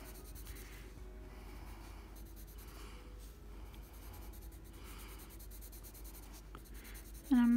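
A colored pencil shades mushroom stems on paper with medium to very soft pressure, giving a steady close scratching and rubbing that rises and falls in gentle strokes. A louder noise cuts in at the very end.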